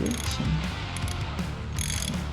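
Ratcheting and mechanical clicking of a part being tightened during motorcycle service, steady and close, with metallic ticks over a low background hum and no talk.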